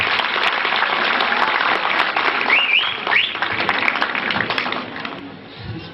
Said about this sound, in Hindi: एक राउंड ऑफ तालियां हमारे कल्चर के लिए।